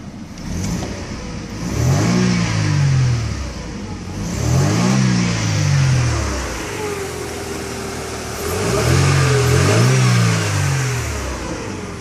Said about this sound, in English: Let's rev the engine up a little bit here.